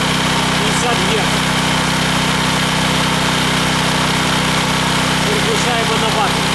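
A Heron 3.5 kW single-phase petrol inverter generator runs at a steady, even idle with a constant mid-pitched engine hum and vibration throughout, close and loud.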